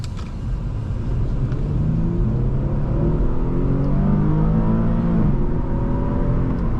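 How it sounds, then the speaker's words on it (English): A 2013 Infiniti G37 sedan's engine hums steadily from inside the cabin while driving, a continuous low rumble with rising, revving harmonics as it accelerates, no talking over it. "Engine sounds amazing too."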